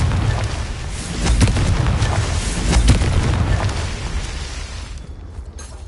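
A Confringo explosion spell cast in Hogwarts Legacy on PS5, heard as a loud, sustained booming blast with rumbling bursts that swell and then fade out near the end.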